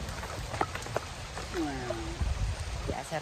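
Steady rain patters across a surface on a farm in the Philippines, a continuous wash of drops with a few faint voices and low rumbles underneath.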